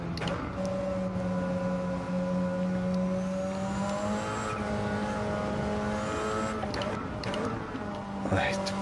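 A race car in the racing game Gran Turismo 7 on worn tyres drives through a race, its engine droning steadily with held tones that shift in pitch as it accelerates and lifts.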